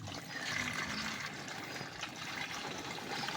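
Water from a hand pump pours steadily into a container for racing pigeons to drink, a continuous close splashing trickle with no one talking.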